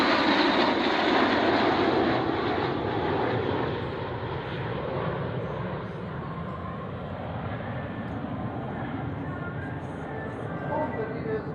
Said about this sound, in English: all the leaders order the aircraft go into capstone formation.